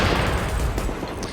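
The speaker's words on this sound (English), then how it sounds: "Let's shoot these guys here." Gunfire in The Division video game: a loud, dense, continuous volley of shots roars through the whole moment, with no talking.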